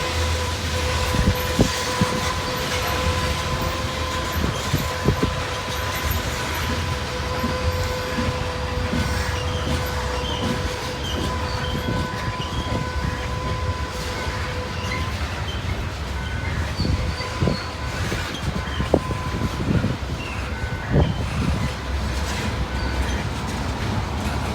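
A freight train rumbles through the tunnel at Gallitzin, Pennsylvania, a steady, loud low roar with wheel clatter and sustained metallic squealing tones running for the whole stretch, with no voices.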